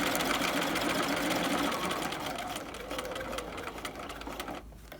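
A sewing machine runs steadily while stitching a raglan collar, making a dense, continuous mechanical whir close to the mic. It eases off slightly toward the end and stops just before the clip finishes.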